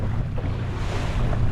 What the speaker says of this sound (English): the wind is coming probably 10-15 miles an hour out of the south